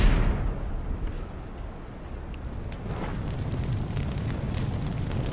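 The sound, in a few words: fire burning in Little Inferno video game fireplace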